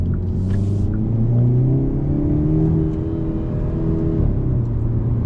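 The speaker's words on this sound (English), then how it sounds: "I love the sound of the exhaust" Deep, rumbling exhaust of a 2024 Hyundai Elantra N idling and swelling as the engine revs, steady and close with low droning tones rising and falling.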